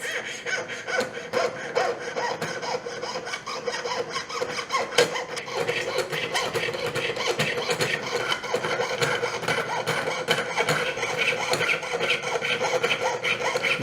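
A hand saw cutting through wood in steady, rapid back-and-forth strokes, close and loud, continuing without pause.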